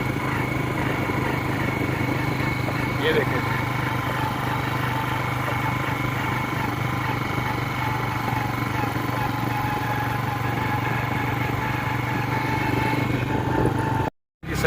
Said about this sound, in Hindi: क्योंकि मोटरसाइकिल पे हूँ।